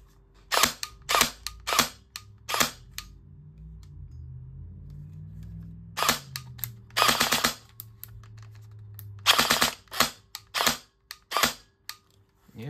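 Repeated sharp shots from an old, worn airsoft gun being test-fired, in quick bursts of several shots with pauses between, close and loud, over a faint low hum.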